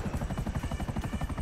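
A damaged helicopter in Grand Theft Auto V flies with a loud, steady rotor chop, its rapid blade pulses thudding evenly throughout with no talk over it.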